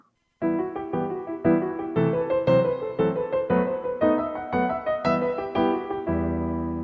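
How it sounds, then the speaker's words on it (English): Brisk instrumental ballet music in 9/8 time with a lively, uneven rhythm, punchy repeated notes driving forward loudly before settling into a final held chord. "this piece of music I believe should be faster, and this is what it should sound like"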